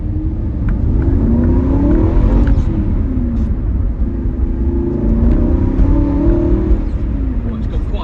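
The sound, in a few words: 2016 Aston Martin V8 Vantage S manual accelerating hard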